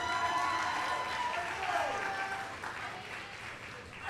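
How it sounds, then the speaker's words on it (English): An audience claps at a high school poetry slam, a dense burst of applause that is loudest at the start and then slowly thins out. "Can we give another round of applause?"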